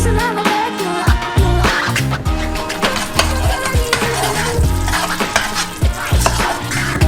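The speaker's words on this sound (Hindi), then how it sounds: "हमने इसे स्टोव पर रखा। जरूरी तापमान पर रखें और पकाएं।" Caramel cooks in two saucepans on a stove, a steady dense sizzle and bubbling with busy stirring and scraping clatter throughout, loud and close with no talking.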